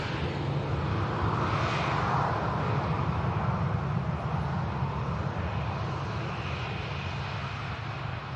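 A Ryanair Boeing 737 MAX 8200 arriving from Faro at Manchester Airport roars past in a loud, steady, continuous wash of jet engine noise with no break.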